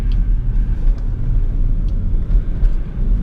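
A remapped BMW 535d diesel sedan, tuned to 370 hp, accelerates hard on an extra-urban road with a deep, steady low rumble and road roar, heard from inside the cabin with no talk.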